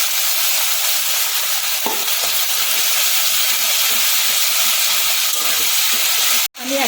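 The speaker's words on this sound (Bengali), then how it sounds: "এবার আমি জল দিয়ে দেবো অল্প জল দেবো" Water added to a hot pan of chilli cauliflower sets off a loud, continuous hissing sizzle that fills the whole stretch, with a brief clatter partway and a sudden cut near the end.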